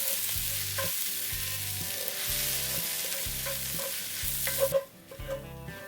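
Egg and chapathi sizzle in a hot pan with chopped coriander while a spatula scrapes and stirs in a steady rhythm, ending with a few sharper clanks.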